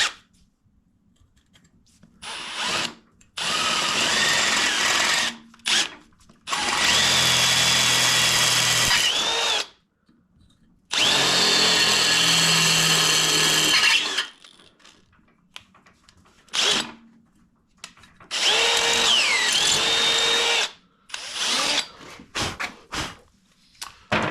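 A power tool cuts and threads a hole in a car bumper while fitting fog lights, running in several loud, close bursts of whining drilling separated by pauses with small clicks and handling sounds.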